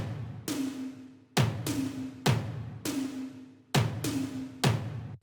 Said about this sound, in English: So I have these like big kick and snare on top of those that sound like this.